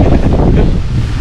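Loud, steady wind buffeting the microphone at a lake in San Pablo, Laguna, a dense low rumble with gusty fluctuations and no voices.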